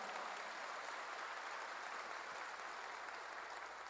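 A church congregation claps together during a worship service, a dense, steady wash of applause filling the whole four seconds at even loudness with no voices on top.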